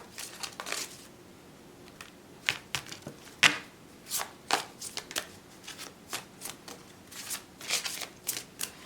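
Tarot cards are shuffled by hand in quick, irregular riffles and slaps, close and crisp, with brief pauses between bursts.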